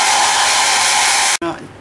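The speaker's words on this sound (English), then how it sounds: "I'm using my Braun Satin Hair 5 blow dryer" A Braun Satin Hair 5 blow dryer runs steadily with a loud, close, breathy whoosh for over a second before abruptly cutting off, leaving a short fading whine.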